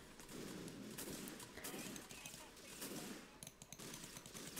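Rapid gunfire from a first-person shooter video game set in a zombie apocalypse, dense continuous bursts of shots filling the clip with no pauses, loud and close.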